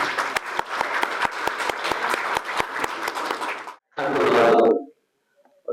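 A seminar audience in Islamabad applauds to welcome a senator, a brisk burst of many hands clapping that cuts off abruptly, followed by a short murmur of voices and then quiet.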